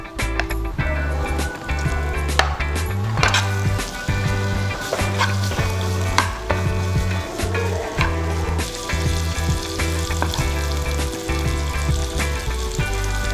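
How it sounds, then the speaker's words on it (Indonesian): Chopped onion and garlic sauté in margarine in a hot pan, sizzling steadily and loudly, with scraping stirs and clinks of a utensil throughout. "Sambil kita tumis bawang bombay"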